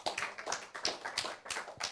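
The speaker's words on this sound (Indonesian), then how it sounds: "Tepuk tangan buat kita semua" A church congregation claps at an Ascension Day worship service, their hands beating in a steady, fairly quick rhythm of distinct, close claps with no talk over them.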